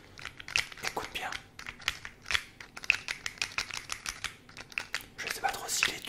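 Pen handled close up in a fast ASMR guessing game: rapid clicks, taps and crinkly rubbing in irregular bursts, with soft speech at times.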